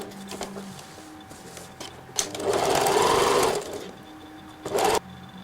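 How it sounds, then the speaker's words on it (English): A sewing machine sews a seam in a couple of short whirring bursts, one longer run in the middle and a brief one near the end, close with quiet handling noises between. "Now move over to the sewing machine, sew it all together, 1 centimeter seam allowance."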